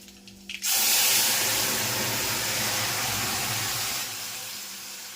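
Mustard seeds, cumin and fenugreek powder tempered in hot oil for a drumstick curry give a sudden loud sizzle that bursts in close by and hisses steadily, easing slightly toward the end, with no talk.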